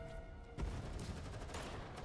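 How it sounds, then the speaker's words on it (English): A burst of gunfire and explosions in a video game cutscene, a sudden dense rattle of shots and booms that erupts and keeps rumbling steadily at moderate loudness, with no talking. "A burst of gunfire and explosions erupts outside, abruptly cutting off the host's introduction."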